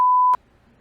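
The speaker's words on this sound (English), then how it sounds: "We'll beep that out." A short, loud, pure censor bleep tone lasting about a third of a second, cutting off abruptly into near silence.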